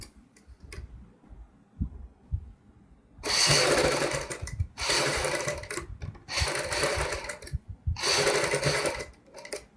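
A sewing machine stitches a kurti in four sustained bursts of running, each lasting one to two seconds, separated by short pauses with faint handling clicks and no talking.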